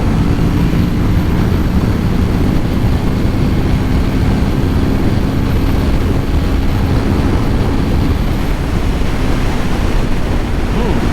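A 2019 Kawasaki Ninja 650 rides at high speed, close to 150; a constant heavy roar of wind buffeting the microphone almost completely buries a low engine hum, steady from start to finish.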